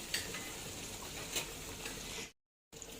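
A panne cutlet fries in hot oil, a dense, close crackling sizzle with small pops, steady for about two seconds before cutting to a brief silence and resuming.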